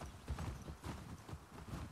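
A horse ridden in The Last of Us Part II walks with rhythmic clip-clop hoofbeats, close and regular, on cold ground, with no talk over the steps.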